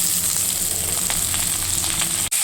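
Drumsticks go into a pan of hot oil after the potatoes have been fried, giving a steady close sizzle with a few soft stirring touches and a sudden cut near the end.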